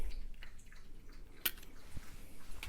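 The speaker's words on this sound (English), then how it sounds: "Goldie's drinking water next to me" A dog named Goldie laps water from a dish, faint wet licks and small drips scattered irregularly over quiet background noise.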